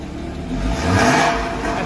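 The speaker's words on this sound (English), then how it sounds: "Why don't you rev it up for me real quick, Hans?" The engine of a 2015 Porsche Cayman is revved once, rising quickly to a throaty mid-pitched roar and easing back, close and fairly loud, with no talking.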